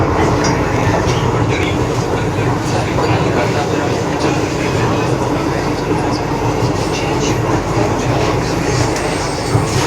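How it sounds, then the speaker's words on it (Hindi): A Delhi metro train pulls into a station with a loud, continuous rumble and some rail clatter. Faint wheel squeal cuts through the steady roar, and voices can be heard underneath. "और फाइनली हमारी जो मेट्रो है वो आ चुकी है"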